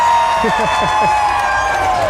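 A fight-night crowd at an XFC 50 featherweight bout roars and cheers steadily, with a bass-heavy music track thumping underneath and an announcer's voice over the top.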